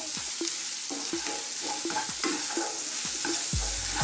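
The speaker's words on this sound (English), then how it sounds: "So, just for a few seconds, let's cook our powders." Curry powder frying with pieces of goat meat in a hot pan gives a constant loud sizzle, with rhythmic spoon scrapes and stirring knocks repeating about twice a second, close up.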